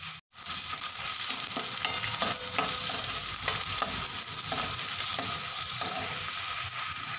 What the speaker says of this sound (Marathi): कांदा छान परतून घ्यायचा यामध्ये